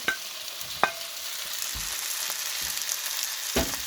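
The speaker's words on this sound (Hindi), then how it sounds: "इसमें मैं अपनी फ्राई की हुई भिंडी ऐड करूँगी" Fried okra sizzling in a hot pan as it is stirred, with a steady hiss of oil and a few sharp scrapes and knocks of a utensil on the pan, no voices.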